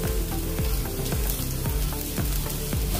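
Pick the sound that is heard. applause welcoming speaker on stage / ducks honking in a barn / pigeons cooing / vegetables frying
vegetables frying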